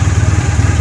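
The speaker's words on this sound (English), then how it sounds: "got the engine running." Red Honda Crosstourer motorcycle engine running at a steady idle, a loud, close, even pulsing thrum throughout.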